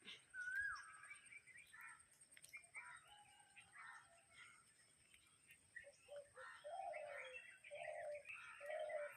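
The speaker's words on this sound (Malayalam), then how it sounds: "നല്ല പക്ഷികളൊക്കെ സൗണ്ട് കേൾക്കും ഇവിടെ" Several birds call softly in the distance: a brief chirp early, scattered calls, then repeated low cooing toward the end. No voices.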